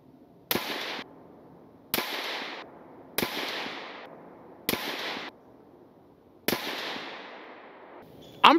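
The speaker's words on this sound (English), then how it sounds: "I went ahead and fired a 5-round group from the same distance, 100 yards, on that 55 grain Stand One remanufactured ammunition" Five loud, sharp rifle shots of 55 grain Stand One remanufactured ammunition fired at a 100-yard target come at roughly even intervals, each trailing a short echo, with a brief click at the very end.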